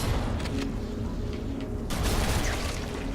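A couple of sharp, booming blasts from enemy shotguns in the shooter Halo: Combat Evolved Anniversary, heard over steady background game ambience with no talking.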